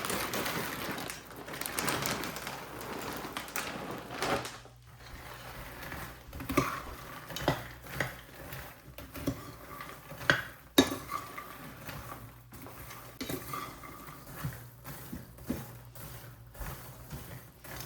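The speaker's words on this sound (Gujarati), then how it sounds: "હવે એમાં થોડોક નાખી દઈએ ચાટ મસાલો એટલે મિક્સ થઈ જાય" Fasting bhel with makhana and chaat masala is mixed in a bowl, with a spoon scraping and clinking against the dish in uneven, fairly close taps and rattles, heard alone.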